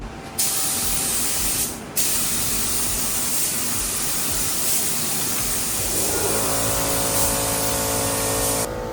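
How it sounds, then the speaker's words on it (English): Steady hissing spray of a paint gun applying a three-stage colorshift paint job to a Mazda Miata, running continuously, with brief pauses early on and a low mechanical hum joining toward the end. "I'm gonna leave Alec in there to spray"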